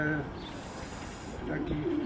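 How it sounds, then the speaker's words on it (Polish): A racing pigeon coos softly as it lands at the loft during a race flight, short low murmuring calls against faint outdoor background and a distant voice. "Gołąb jest już, ten przyleciał z kierunku, tak jakby"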